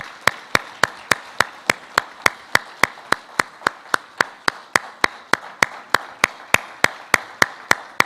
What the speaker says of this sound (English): Please give him a big round of applause to him.